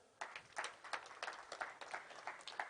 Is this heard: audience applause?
yes